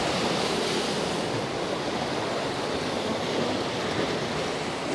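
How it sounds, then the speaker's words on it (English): Ocean surf breaks on the shore near Dubrovnik in a continuous, dense wash of waves. The sound is loud and close, with a steady roar and a wind-like rush and no talk over it. "So is it something like 7 waves"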